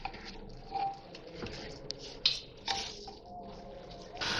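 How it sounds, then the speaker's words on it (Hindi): Carrot halwa is stirred with sugar in a pressure cooker, giving soft wet squishing and patting sounds with a few clicks of the spoon, irregular and close by. "चीनी डालने के बाद इसको मिक्स कर रही हूँ मैं।"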